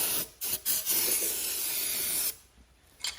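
Compressed air blasts to clean the engine of a John Deere D100 lawn mower that won't turn over: a short hiss, then a long steady rushing spray of about two seconds, and a brief final puff.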